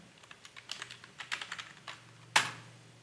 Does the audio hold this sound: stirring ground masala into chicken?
no